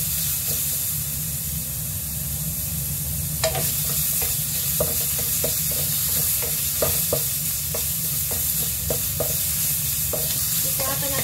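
Chopped tomatoes sizzle loudly and steadily in a hot pan while a utensil stirs them, adding a run of sharp clinks and scrapes against the pan, with no talking.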